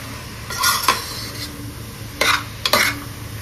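Vegetable pulao with garam masala and coriander powder is stirred in a pot over a soft sizzle, with a few scraping, clinking strokes of a spoon against the metal.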